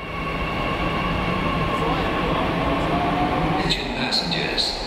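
Mashaer metro train serving Hajj pilgrims at a station, a steady loud rumble and hum of rail cars with a few higher tones near the end; people talk faintly underneath.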